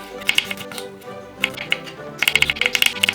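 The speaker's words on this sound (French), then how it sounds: "Pour l'ail, comme ça, petit couteau, on coupe un petit morceau." A small knife cuts a piece of garlic on a cutting board, giving sharp close taps in short bursts that quicken into a rapid run near the end.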